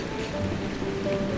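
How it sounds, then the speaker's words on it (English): Steady cartoon rain falls as a continuous, even hiss of drops on surfaces, filling the short stretch without pauses, with faint tonal hums beneath it and no voices. "I think the rain's dying down now."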